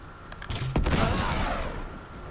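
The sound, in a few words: gunfire in the video game Uncharted 3: Drake's Deception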